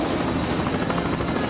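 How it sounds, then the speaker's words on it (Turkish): A helicopter in a mobile car-city video game, its rotor and engine making a steady, dense whirring drone that fills the whole stretch without pause and sounds close and continuous. "Süper helikopter. Bu harika."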